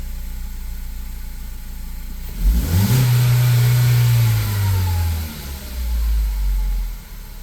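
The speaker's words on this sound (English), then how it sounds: "Depress the accelerator pedal to the floor so the engine reaches wide open throttle." A Ford Focus engine idles, then roars up sharply at wide open throttle and holds a loud, steady high rev for a few seconds before dropping back toward idle.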